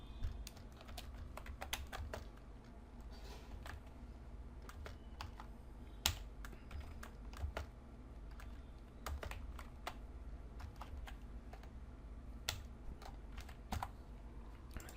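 Code being typed on a computer keyboard, with steady clicking keystrokes and occasional sharper key hits, close and clear with no talking.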